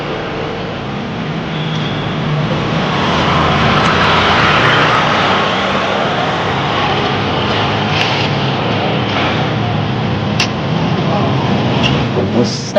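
A helicopter flies overhead, its steady broadband rotor and engine roar rising and swelling loudly before slowly easing, with voices talking underneath.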